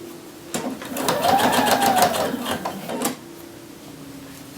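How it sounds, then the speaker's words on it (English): Sewing machine basting a shirt collar, a short run of rapid stitching of about two and a half seconds, close and clear, starting and stopping abruptly against a quiet room hum. "we baste this first instead of just stitching it in"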